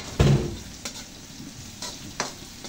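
Green chili peppers go into a pan of chicken adobo cooking with ginger, a loud sizzle on contact followed by quieter frying and a few scraping stirs, with no talking.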